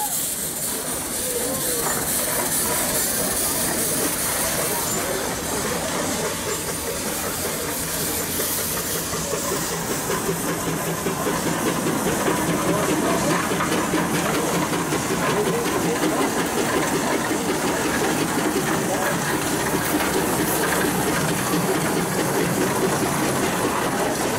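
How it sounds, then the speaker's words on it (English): A 1912 Scott steam traction engine runs steadily at a pioneer engineers' parade, giving a continuous hissing, chuffing rumble at close range that holds fairly even throughout, with outdoor background noise mixed in. "Scott engine, owned by Mr. Larry Hall of Rushville, Ohio, built in 1912, and he is pulling,"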